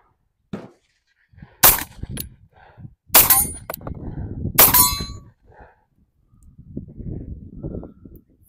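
Three sharp shots from a Tisas 1911 Carry 9mm pistol loaded with Winchester Defense jacketed hollow points, evenly spaced and loud outdoors, each followed by a brief ringing decay, with faint clatter between them.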